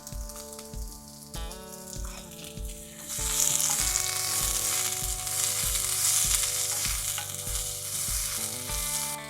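Vegetables cook down with a little salt in a pan, giving a steady bright sizzle and frying hiss that swells louder partway through and continues under a background of music with a regular beat.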